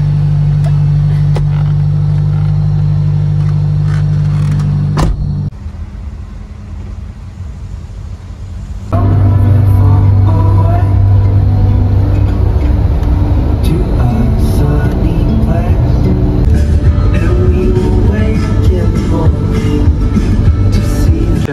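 A van travelling on the road, heard from inside as a loud, continuous engine rumble and road roar that dips briefly to a quieter stretch before surging back steadily.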